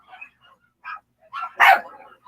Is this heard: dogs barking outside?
yes